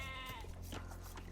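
Sheep bleat in the Age of Empires II video game, a single wavering bleat heard close and clear over a steady game background.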